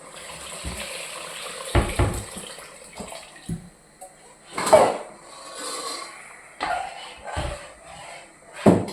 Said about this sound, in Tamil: இந்த கரைச்சி வச்சுருக்கோம் பாருங்கள் புளி தண்ணி, இதை ஊற்றுறோம்.